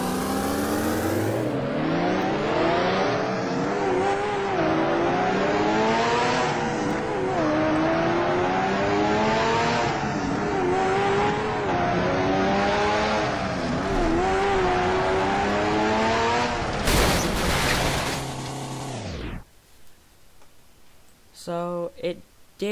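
A sports car engine in BeamNG.drive revs loudly and climbs steadily through the gears for nearly twenty seconds, then cuts off abruptly, leaving faint ticking.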